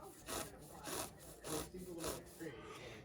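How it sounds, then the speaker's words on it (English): A felting needle is worked through hair to form a Wookiee costume dreadlock, giving rhythmic scratchy rubbing strokes in about five bursts, close and fairly quiet, with no talk. "Trying to keep that felting needle moving."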